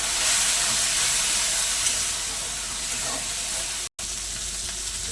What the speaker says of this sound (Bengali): অল্প একটু জল দিয়ে মশলা তার একটু ভালো করে কষে নেব।